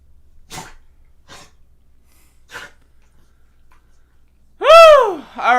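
A dog gives a few soft snuffling, breathy sounds and then one loud, sharp whining yelp with a strong harmonic sweep near the end.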